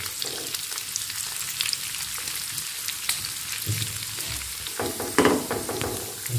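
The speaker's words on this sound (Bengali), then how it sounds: "চর্বিটা গলে গিয়ে এটা কিন্তু তেল বের হয়ে এসেছে" Goat fat renders into oil in a hot pan with a constant crackling sizzle. Louder bursts of spitting and stirring scrapes rise near the end, close up with no talking.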